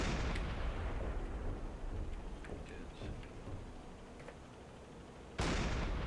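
A ship's surface gun fires in a naval submarine video game, a loud broadband blast at the start and another sudden blast near the end, with rumbling between and a voice speaking over it.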